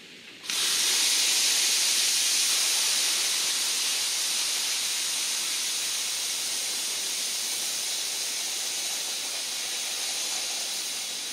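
Compressed air blows out a sprinkler irrigation zone during winterizing, a loud, steady hiss that starts abruptly and holds for about eleven seconds with no talk.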